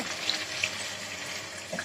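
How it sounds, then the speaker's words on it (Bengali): A kitchen utensil is rinsed under a running tap, giving a steady close splash of flowing water with a couple of faint clinks, short and without voices. "কন্তিটা ধুয়ে দিচ্ছে ভালো করে।"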